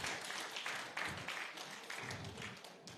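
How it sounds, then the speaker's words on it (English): Brief audience applause at a public lecture during a board of fellows mid-year event, coming in uneven bursts of clapping that swell and fade, fairly faint. "Give him a round of applause."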